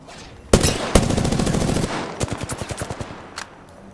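Video game gunfire in Apex Legends: two sharp shots, then a fast automatic burst, then a slower string of single rapid shots and one last shot, all loud and close.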